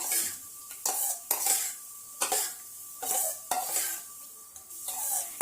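A yogurt tempering is stirred in a pan with a spoon, making a steady run of scraping strokes against the metal in a regular rhythm over a light sizzle, with no talking.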